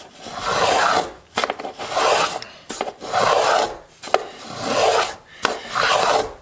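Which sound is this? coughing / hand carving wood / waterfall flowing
hand carving wood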